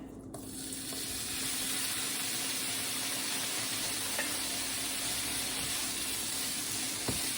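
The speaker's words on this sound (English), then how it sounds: "I have my pan here with a little olive oil in it, and we're gonna start with the smoked sausage" Smoked sausage sizzles steadily in a pan of hot olive oil, a continuous close frying hiss with faint occasional stirring clicks throughout.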